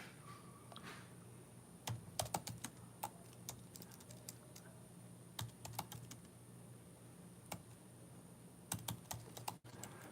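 Typing a search on a computer keyboard: quiet, close clicks and taps arrive in irregular bursts and short runs with pauses between, over a faint steady hum in a still room, no voices.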